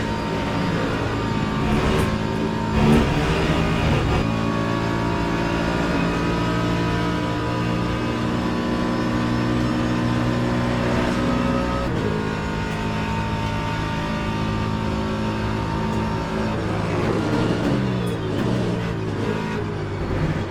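A race car engine in the Le Mans Ultimate racing game drones loud and steady throughout, with layered whining tones that rise and fall through gear changes and throttle shifts.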